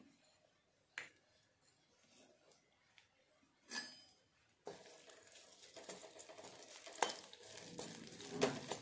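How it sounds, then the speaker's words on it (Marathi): Green chillies frying in hot peanut oil for sabudana khichdi, quiet scattered clinks at first, then a louder crackling sizzle with stirring and utensil clatter building up. "हिरवी मिरची बघा इथे आपल्याला छानपैकी ते तेलामध्ये फ्राय करून घ्यायची आहे।"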